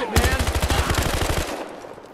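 Rapid automatic gunfire from Battlefield Hardline, a loud close burst of about a dozen shots in quick rhythm that cuts off, leaving a quieter game ambience.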